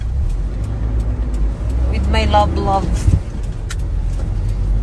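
A steady low engine drone from inside a moving truck cab, with road rumble throughout, while someone speaks briefly over it midway.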